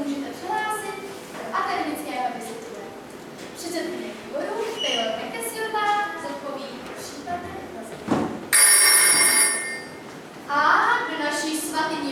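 A mobile phone goes off in a high school classroom as a loud, bright electronic ring in two short bursts near the end, over steady talking.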